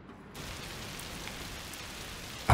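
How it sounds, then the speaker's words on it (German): Steady rain in the video game A Plague Tale Requiem begins after a brief quiet moment, settling into an even, close, hissing downpour with a sudden louder burst right at the end. "Ah, oh, schön Regen."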